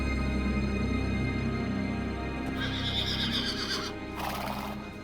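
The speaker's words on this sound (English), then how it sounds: "Only Alexander understood why the horse was in a panic." A panicked stallion, Bucephalus, neighs and whinnies loudly with shrill cries, his hooves clattering and stamping restlessly beneath the calls, close and alone without any voices.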